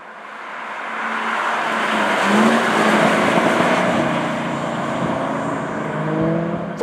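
A Ford GT's engine revs hard as it accelerates through the gears, climbing in pitch with a brief dip at each shift, loud and close with no talking.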